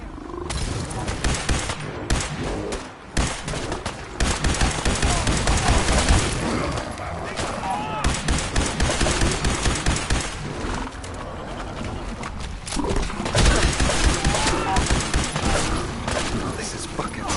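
Dense video-game gunfire, with rapid overlapping bursts and machine-gun rattle, fills a battle defending a hall and runs almost unbroken under shouted voices and in-game talk.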